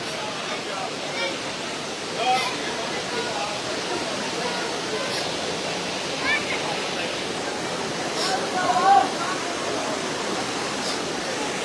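Fast floodwater from Mizoram surges along a road at Gudam Ghat, a steady broadband roar of rushing current that holds throughout with only small swells and splashes.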